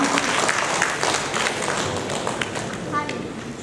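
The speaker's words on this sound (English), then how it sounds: "A huge round of applause," Conference audience applauding, a dense sustained wash of clapping with a faint voice briefly heard toward the end.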